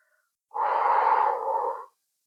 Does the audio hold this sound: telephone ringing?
no